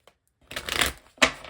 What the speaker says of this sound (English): I'll shuffle and pick out one